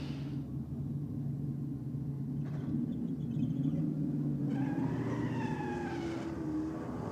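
A drag race car launches at Sydney Dragway as a low, rumbling roar that holds throughout and then rises in pitch as the car pulls away, heard from a distance.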